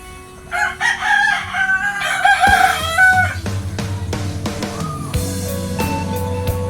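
A mother hen crows loudly and clucks close by, with other farmyard fowl calling and some rustling in the background.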